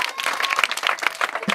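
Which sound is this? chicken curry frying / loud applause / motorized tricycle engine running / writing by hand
loud applause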